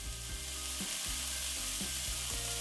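Onions and carrots brown in a pan with a steady, close sizzle and frying hiss, with a few soft stirring scrapes and no voices.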